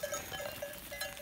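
A flock of sheep grazes in a field, faint and distant, a bleat or two rising over low ambient noise, with a cowbell-like tinkle in the background.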